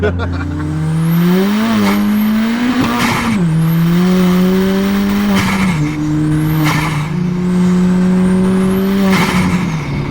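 A 400hp Ford Fiesta ST accelerates hard on an open road, its engine note climbing through several gears with brief dips at each shift, loud and close from inside the cabin, with occasional voices.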